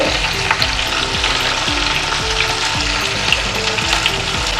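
Whole cumin seeds fry in oil in a cleared spot among potato and cauliflower pieces, giving a loud, close, continuous sizzle with light crackle and occasional stirring scrapes.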